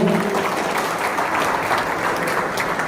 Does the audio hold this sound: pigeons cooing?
no